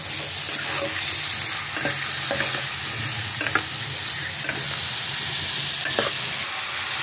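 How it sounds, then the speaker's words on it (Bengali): Steady loud sizzle of masala frying in a pan with coriander and cumin powder and a splash of water, with repeated scraping strokes of a spoon stirring throughout. "মশলাটা আমি একটু ভালো করে কষিয়ে নেব।"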